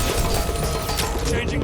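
A magazine is swapped during a video game shooter, giving a quick burst of metallic clicks and mechanical clatter over a dense, loud bed of game noise and gunfire.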